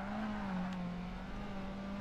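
A front-wheel-drive Ford Focus in Project Gotham Racing 2 spins its front wheels, a steady droning engine note holding near-constant pitch with a faint whine above, loud and continuous for two seconds with no talk.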